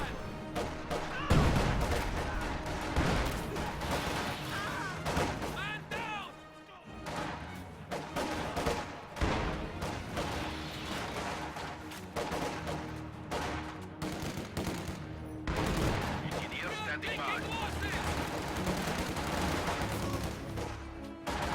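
A field gun barrage firing high explosive shells in a strategy video game, with repeated booming blasts and crackling gunfire in dense, chaotic bursts throughout, mixed with battle noise.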